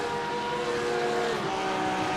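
Porsche GT3 race cars battling in a GT World Challenge race at Circuit of the Americas, engines droning in a dense, steady tonal roar with pitch shifts as cars jostle, continuous and fairly distant.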